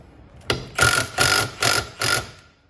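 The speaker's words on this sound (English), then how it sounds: "We'll grab our Allen key or Allen key socket." A 5/16 Allen key socket on a ratchet turns during a Wagner/Titan airless paint pump rebuild, making five close, loud ratcheting bursts in an even back-and-forth rhythm with short pauses between them.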